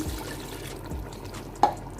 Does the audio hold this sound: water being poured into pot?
yes